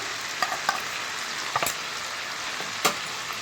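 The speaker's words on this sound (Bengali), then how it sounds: "বাদামটাকে দিয়ে ভালো মতো কষিয়ে নিচ্ছি" Blanched peanuts, almonds and pistachios sautéing in a pan for a chicken roast: a steady close sizzle of frying with scattered stirring scrapes and clicks, no voices.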